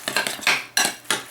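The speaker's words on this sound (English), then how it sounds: "we're gonna use the spoon to mash it" A spoon mashes butternut squash and ricotta filling in a bowl, a few rhythmic scraping clinks against the dish, close and clear with no talk.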